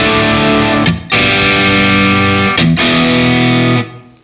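Harley Benton TE-62CC Telecaster-style guitar played with a crunchy overdriven tone through a free amp plugin: sustained distorted chords ringing loud and alone, with two brief gaps where the strings are cut off before restarting.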